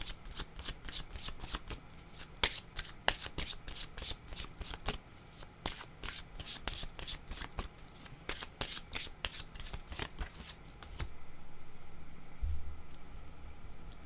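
Tarot-style reading cards are shuffled and drawn by hand, a long run of rapid riffling flutters and slaps at close range, ending with softer handling and a low rustle.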